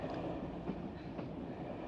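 A train rolls steadily along the rails with a constant low rumble and faint rattling, heard from inside, with no voices, in a scene from the 1976 film The Cassandra Crossing.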